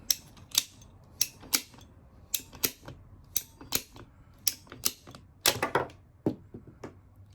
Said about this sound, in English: once it's in, just continue to ratchet down.